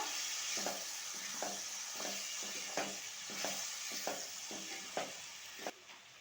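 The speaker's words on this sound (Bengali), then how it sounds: "এই জল দিয়ে মশলাগুলো খুব ভালো করে কষিয়ে নেব।" Ground spices being stir-fried with a splash of water in a pan hiss and bubble in a steady sizzle, punctuated by regular scraping strokes of a spatula about once a second, close up and moderately quiet, no talking.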